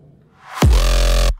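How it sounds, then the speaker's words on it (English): An electronic impact hit followed by a reverse clap swelling into a buildup, producing a sudden loud boom with a sustained low tone that cuts off abruptly after under a second, alone and close. "So I have an impact, and then I have this little reverse clap going into the drop."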